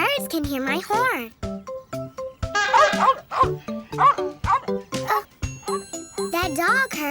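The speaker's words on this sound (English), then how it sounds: "That dog heard my horn." A cartoon dog barks in a lively string of short yips and woofs, mixed with squeaky tones and a childlike voice, all close and busy.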